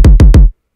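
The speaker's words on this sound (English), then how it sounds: "For the kick, you want it kind of bouncy." Three quick, punchy electronic kick drum hits, a bouncy EDM kick, each with a sharp click and a short falling boom, played evenly and loud with nothing else underneath.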